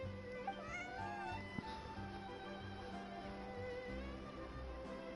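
A cat in Genshin Impact meows several times in a faint, game-style voice, with short calls spread over a quiet background hum.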